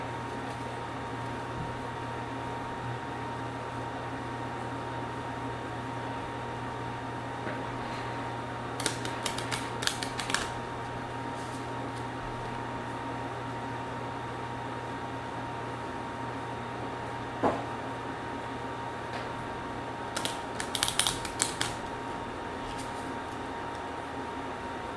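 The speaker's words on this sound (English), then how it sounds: "we gotta go ahead and shuffle up the Mythos deck" A deck of Mythos cards for the board game Cthulhu: Death May Die is shuffled in two short, crisp flurries of riffling over a steady background hum, with no talk.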